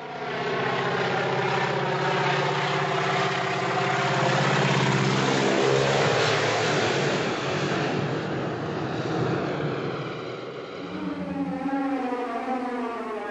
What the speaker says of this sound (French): jusqu'à l'apparition de l'avion